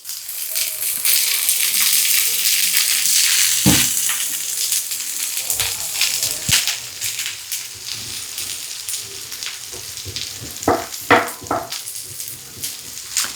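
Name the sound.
vegetables frying in oil in a multimaker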